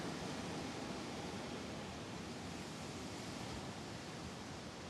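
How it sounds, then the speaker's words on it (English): A blizzard gust blows as a steady, dense roar of wind noise, unbroken for about five seconds, with no voices. "There's another good gust."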